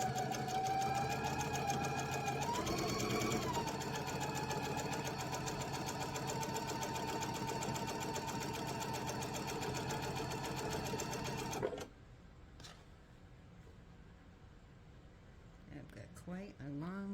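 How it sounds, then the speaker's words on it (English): Sewing machine stitching a straight seam along a zipper on a bag, running steadily and loudly for about twelve seconds before stopping, followed by quieter handling noises. "I'm going to sew up the line until I'm at the next corner"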